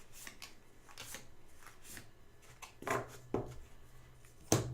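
Magic: The Gathering cards from a Guilds of Ravnica booster pack are slid and handled, soft papery rustles and flicks close by, ending in a sharper snap.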